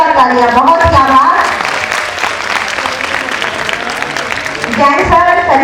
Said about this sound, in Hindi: हमारी माधुरी मैडम के लिए एक बार जोरदार तालियां।